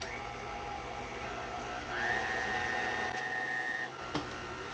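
A stand mixer kneads sourdough jalapeño cheddar dough with a steady motor whine that rises and holds in pitch for a couple of seconds before dropping back, plus a brief knock near the end.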